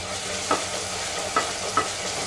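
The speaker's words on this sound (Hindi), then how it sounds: "प्याज को फ्राई कर लेंगे" Chopped onions fry in oil in a pan, an even close sizzle with three short spoon taps against the pan as they are stirred.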